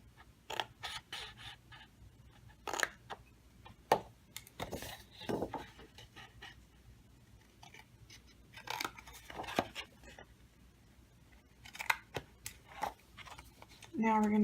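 Scissors snipping a piece off a sheet of Michael's paper card stock to shape an envelope closure, several sharp crisp cuts and rustles spread across the clip between quieter pauses.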